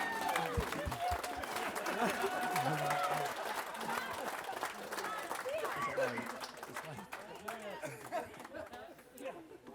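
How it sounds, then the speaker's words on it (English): Wedding guests give the father a round of applause during the speeches, a sustained wash of clapping mixed with crowd chatter that thins and fades toward the end. "If we can get a round of applause for my dad,"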